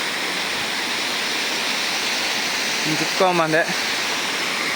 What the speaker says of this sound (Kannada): ನೋಡಿ ಇಲ್ಲಿ ಫಾಲ್ಸ್ ಕಾಣಿಸ್ತಾ ಇದೆಯಲ್ಲ, ಇದು ಬಂದು ಪಾತಪಾಳ್ಯ ಹತ್ರ ಇದೆ ಫಾಲ್ಸು